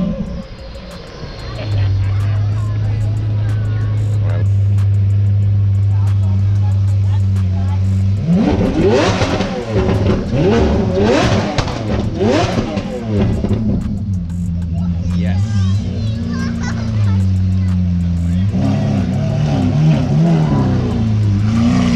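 A Lamborghini Aventador's engine revs loudly nearby, rising in repeated bursts after a steady idle rumble, with people talking over it.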